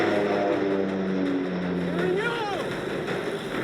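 An airplane flies overhead in the wilderness, its loud continuous engine drone carrying tonal harmonics that bend and shift as it passes, with no clear talk.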